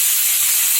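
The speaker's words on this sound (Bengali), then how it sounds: "পেঁয়াজটা একটু ভালো করে নাড়াচাড়া করে আমি ভেজে নেব।" Onions frying in a pan on a home stove while being stirred for a Bengali fish dish, a steady close hiss of sizzling oil with no voices over it.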